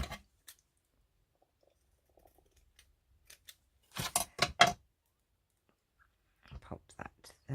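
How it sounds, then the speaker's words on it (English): Scissors cutting lace for a junk journal: a few faint isolated snips, then a close burst of crisp crunching cuts, followed by quieter snipping near the end, no talk. "let's just cut another bit."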